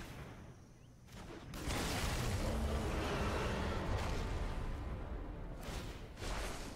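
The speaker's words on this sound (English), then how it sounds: "That's the sound of a stampede coming straight at ya." A video game stampede sound effect: a rumbling, thundering roar swells in after a quiet moment and holds steady, like a heavy mass of hooves charging close by.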